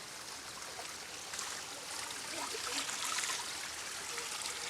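Clear spring water trickling and babbling in a steady, close, soft stream, swelling slightly toward the end; no voices.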